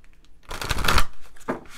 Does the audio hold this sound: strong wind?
no